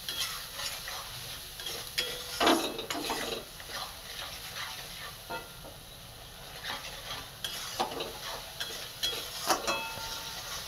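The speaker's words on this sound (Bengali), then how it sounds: "লবণ, ভালো করে মশলাটা কষিয়ে নেব" Spice paste with salt being stir-fried in a pan, a gentle sizzle with intermittent scraping and stirring strokes from a utensil, close and moderately quiet, with no talking.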